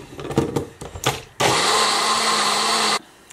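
A kitchen blender whirs up spinach with water, preceded by a few clattering knocks as the jar is set, then a loud, steady motor roar for about a second and a half before stopping abruptly.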